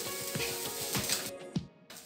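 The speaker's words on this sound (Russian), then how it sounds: "Рис нужно немножко тоже обжарить." Soft sizzling of rice frying in a pan with a few scraping stirs, close and quiet, ending with a brief near-silence.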